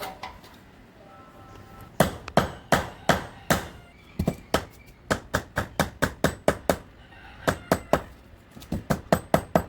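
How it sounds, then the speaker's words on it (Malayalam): A fiber hammer knocks repeatedly on a transformer being rewound, sharp close strikes in uneven bursts, sometimes paced slowly and sometimes in fast runs, with no talk over them. "അടിക്കുന്ന ഹാമർ ഫൈബറിൻ്റെ ഹാമറാണ് ഇരുമ്പ് ഹാമർ കൊണ്ട് അടിക്കരുത്"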